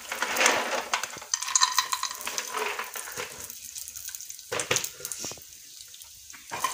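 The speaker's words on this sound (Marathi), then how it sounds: "आता आपण पहिल्यांदा शेंगदाणे भाजून घेऊ। शेंगदाणे आपले भाजून घेत आहे।" Peanuts dry-roasting in a pan while a spoon stirs them, soft sizzling with scraping and a few sharp clinks against the metal, fairly quiet and close, with no talking.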